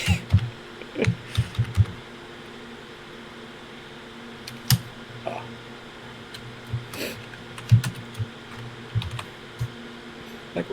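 A credit card number being typed on a computer keyboard: quick clusters of close keystrokes with short pauses between them over a faint steady fan hum.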